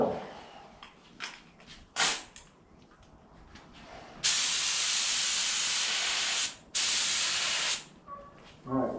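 Metallic gold spray paint hisses from an aerosol can, first in a few short bursts, then in two long, loud sustained sprays, close by, with no talking.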